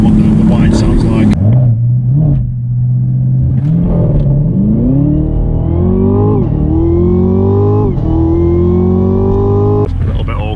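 A 2018 Camaro ZL1 with a supercharged V8 revs loudly up close. The engine note climbs in repeated rising sweeps, with a low rumble under it and a sharp blip at the start and end.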